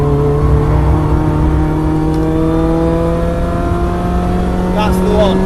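A race car at full throttle on the Cadwell Park circuit during a track day, its engine note close and loud and climbing steadily in pitch, with a brief upshift near the end.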